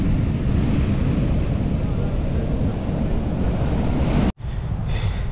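Strong wind roars without a break across the microphone at Bluff Beach in Bocas del Toro, with surf mixed in. It is loud and steady and cuts out briefly near the end.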